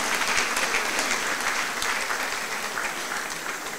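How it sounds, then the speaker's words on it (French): Sustained applause from an audience honouring women entrepreneurs at a face-to-face event with the Prime Minister of the DR Congo, a dense, even roar of many hands clapping that fades slightly toward the end. "Sous vos applaudissements mérités,"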